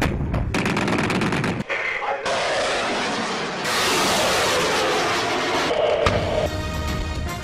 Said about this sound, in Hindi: आर्मी चीफ ने फायर पावर का मुजाहिरा देखा